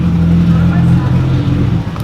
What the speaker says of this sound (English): Right now it's idling a little weird.